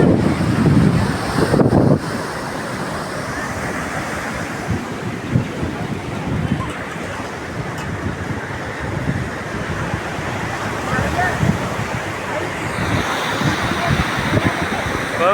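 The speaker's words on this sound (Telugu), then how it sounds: "కోవెలం బీచ్, కేరళ" Ocean surf rolling onto Kovalam beach in Kerala, a steady broad wash of breaking waves with wind buffeting the microphone throughout, no voices over it.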